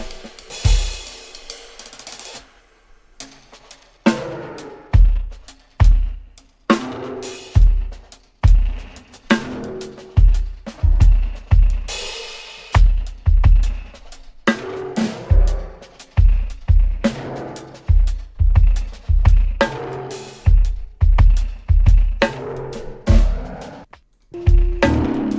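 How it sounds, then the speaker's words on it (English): A drum mix layered with an added Wurst microphone plus extra snare and kick tracks hits in punchy, regular beats, loud and full, with sharp transients repeating steadily through the groove. "then there's the Wurst microphone is added, another layer of snare drum is added, and another layer of kick drum is added"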